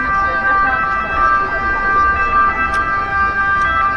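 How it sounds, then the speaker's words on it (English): A police siren wails steadily through rainy streets in Florence, Italy, loud and continuous over traffic hiss and city bustle. "Always the sound of the police."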